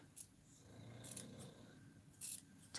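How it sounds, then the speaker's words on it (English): A few quick scissor snips cutting cardboard, sharp and close, spaced out over a few seconds against a quiet background. "And then I'm going to snip."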